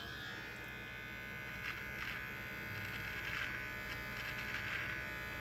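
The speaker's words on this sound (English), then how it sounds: "Take your trimmer." Electric beard trimmer buzzing steadily close by while trimming a mustache inward from the corners of the mouth, a continuous motor hum with faint cutting swells, no talking.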